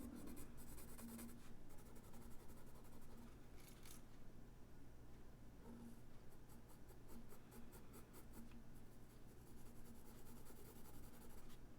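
Pencil scratching and scribbling across sketchbook paper while doodling, a steady close-up rubbing texture with brief lifts between strokes and no talking.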